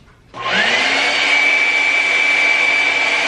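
A handheld hair blow dryer switches on after a brief quiet moment and runs loud and close, a steady roaring whoosh with a high whine, used while drying retwisted locs.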